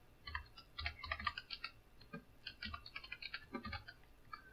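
Quiet, close typing on a computer keyboard, irregular bursts of light key clicks with short pauses between them, and no voice present.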